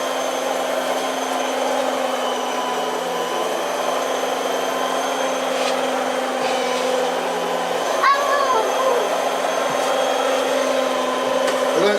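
A Vorwerk VK120 vacuum cleaner runs on carpet during a Kobosan cleaning demonstration, its motor holding a loud steady whine and drone throughout, with a faint voice underneath.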